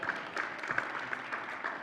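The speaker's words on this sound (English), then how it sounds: "Shall we give him a round of applause?" Audience applause, a steady wash of clapping at moderate level that holds throughout, with a few sharper claps standing out in the crowd.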